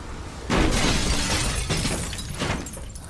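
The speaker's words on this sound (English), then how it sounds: "By breaking the glass." Glass partition shatters in the Beyond: Two Souls video game, a sudden loud crash at about half a second followed by a long scattering of falling shards and debris, with a second burst of breakage near the end.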